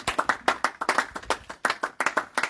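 A church congregation claps rhythmically in acclaim, a quick and steady run of sharp, bright hand claps, close and loud, with many hands together.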